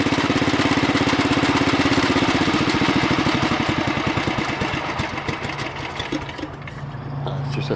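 A Bolens Husky garden tractor engine runs steadily after a choke start, a close, loud, even single-cylinder putter that eases slightly lower in level toward the end, heard alone in winter.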